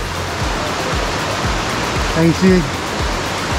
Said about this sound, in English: It's gonna take us down closer to the Fiery Gizzard River.